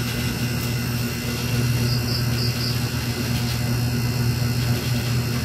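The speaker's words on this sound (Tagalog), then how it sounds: "parang may motor na naman dun sa unahan" Steady low engine drone of a motorcycle somewhere ahead, holding a constant hum without clear rise or fall, fairly distant and continuous with no voices over it.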